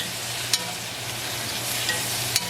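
Shrimp frying in a pan and being stirred give a steady close sizzle, broken by a couple of sharp scrapes or clicks of the utensil against the pan.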